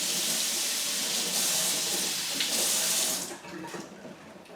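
Tap water running steadily over the roots of a Phalaenopsis orchid being repotted into bark, a loud, close, broadband splashing rush that cuts off partway through, leaving a softer trickle.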